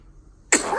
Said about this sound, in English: He's just sneezing.